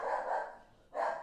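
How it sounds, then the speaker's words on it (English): A dog barks twice at close range, a pair of loud, short barks separated by a brief pause with no other sound around them. "There's my dog."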